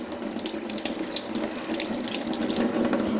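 Tomatoes and a cucumber rinsed under a kitchen sink tap make a steady, close splashing stream of running water, alone with no talking.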